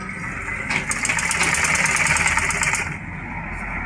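A sewing machine stitches a trouser back pocket, a fast mechanical whirr rising and holding steady for a couple of seconds before stopping, close and fairly loud.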